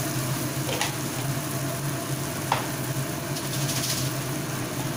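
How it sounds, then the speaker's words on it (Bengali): Spices with salt sauté in a pan for a Bengali poppy-seed-paste dish, giving a steady, even sizzle with a few faint scrapes of a spoon. "ভালোভাবে মশলাটাকে আগে কষিয়ে নেব"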